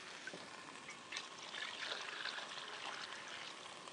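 Cooking liquid poured into a soup pot, a steady close splashing stream that runs continuously and fairly softly for a few seconds, with nothing else over it.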